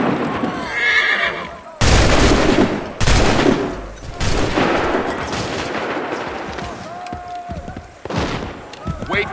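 Several thunderous musket volleys from Assassin's Creed 3 ring out in quick succession, rough crackling bursts that fade into battle din, with horses whinnying and hooves clopping nearby.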